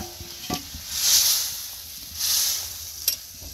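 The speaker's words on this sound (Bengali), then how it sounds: "এখন কাঁঠালটা ঢেলে দিচ্ছি। বাবা, থকবক থকবক করে উঠলো একদম।" Young jackfruit poured into hot oil with browned onion and cumin, sizzling in two swelling bursts of hiss, punctuated by a few sharp clatters of stirring, close by and with no voices.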